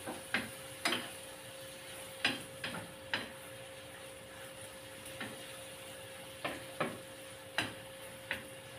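A spoon clacks against a pan while squid adobo cooks, with about a dozen sharp, irregular knocks and scrapes over a faint steady hiss and hum, close and clear with no talking.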